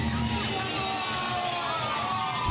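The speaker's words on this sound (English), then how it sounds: "Huge crowd reaction here for Titus as he makes his way to the ring" A wrestling crowd cheers and yells continuously for a wrestler making his entrance to the ring at a live show in Charlottetown, a dense, loud roar of many voices with whoops throughout.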